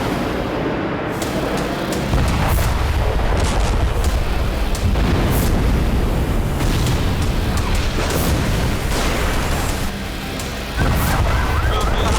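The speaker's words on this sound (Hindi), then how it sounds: "ये वो बारूदी बवंडर है जिसमें ईरान का सबसे बड़ा प्रॉक्सी हिजबुल्लाह तबाह होता जा रहा है।" Bombing explosions in Lebanon make repeated heavy booms and cracks over a constant low rumble, loud and close, with several separate blasts spread across the scene.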